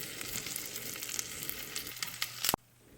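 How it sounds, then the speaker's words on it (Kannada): Garlic and ginger fry in oil in a pan with a close, steady crackling sizzle and scattered pops, ending with a sharp clatter before the sound abruptly cuts off. "ಬೆಳ್ಳುಳ್ಳಿ ಒಂಚೂರು ಸ್ವಲ್ಪ ಸುಟ್ಟ ಮೇಲೆ ಒಂದು ಪೀಸ್ ಶುಂಠಿ ಹಾಕೋತಾ ಇದ್ದೀನಿ."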